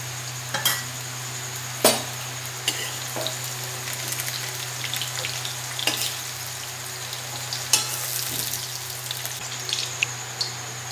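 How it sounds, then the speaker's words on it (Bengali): Steady oil sizzling from potatoes and pointed gourd frying in a pan, with occasional sharp scrapes and taps of a spatula stirring, close and continuous without talk. "পটল আর আলুগুলো এইভাবে সুন্দর করে ভেজে নিতে হবে"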